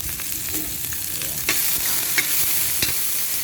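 Corned beef, corn and sotanghon noodles stirred in a pan with a little oil, a steady soft sizzle under repeated scraping strokes of a utensil against the pan, close and moderately loud.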